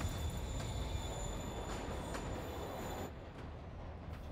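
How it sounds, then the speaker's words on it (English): A moving train in the Marvel's Spider-Man video game rumbles steadily, its wheels squealing in thin high tones over a heavy low roar, which drops a little toward the end; no one speaks. "Train moving. Lee's getting away."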